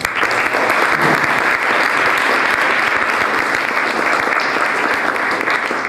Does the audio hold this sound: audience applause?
yes